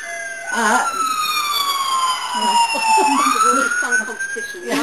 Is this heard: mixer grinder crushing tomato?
no